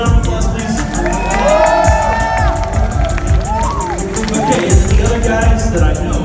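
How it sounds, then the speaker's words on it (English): A convention crowd at BronyCon roars with cheering, whoops and shouts in a dense, steady wall of noise, with scattered voices rising above it. "Forest Rain, everybody give her a round of applause, please"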